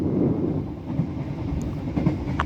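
KA Kamandaka economy class train running after leaving Weleri station toward Semarang Poncol, a continuous loud rumble with faint rhythmic rail clatter heard from inside the carriage.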